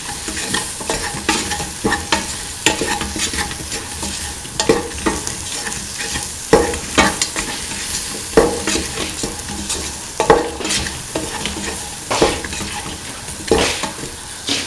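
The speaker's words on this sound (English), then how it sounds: "Thoroughly mix in the salt in the mixture spices with the rest of the mixture" Spoon stirring salt and spices through a sizzling okra and chickpea cooking mixture in a pan, repeated scraping strokes at an uneven rhythm over a constant close frying sizzle, with no voices.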